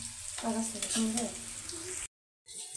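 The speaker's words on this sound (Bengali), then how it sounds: "পেঁয়াজ ভাজা হয়ে গেছে" Steady crackling sizzle of onions frying in a pan, with voices over it, then a brief silence before the sizzle resumes.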